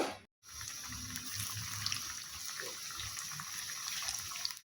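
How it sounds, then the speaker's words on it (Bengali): Prawn and lentil pakoras fry in oil on low heat, giving a steady, even sizzling hiss that runs unbroken for several seconds after a brief gap, with no talking. "এখন একটু সময় নিয়ে একদম লো হিটে এইগুলোকে লাল লাল করে ভেজে নিব।"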